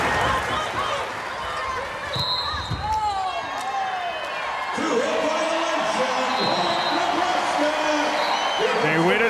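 A packed arena crowd stands and roars at match point of a Nebraska women's volleyball match against Tulsa at the Devaney Sports Center, steady loud cheering and whoops with a commentator talking over it.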